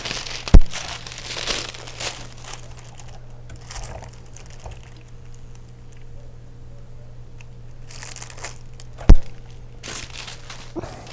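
Shrink wrap plastic crinkling and crackling as heat is applied with a Traco Standard SuperSealer I-Bar system, a soft continuous rustle with two sharp loud snaps near the start and near the end.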